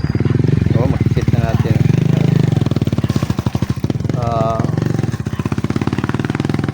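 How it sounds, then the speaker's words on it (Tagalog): A motorcycle rolls past heading toward the mountains, its engine chugging in a loud, steady rhythm close by while someone talks over it the whole time. "dumaan nga motor mga idol, no? Patungo doon sa bundok mga idol"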